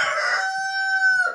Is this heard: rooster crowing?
yes